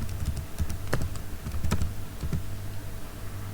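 Keys on a computer keyboard are tapped in a quick, close run of clicks as a password is typed, with a steady low hum underneath and no talking.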